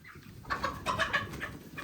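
A rooster clucks in a short run of sharp, close calls that carry over a low background murmur.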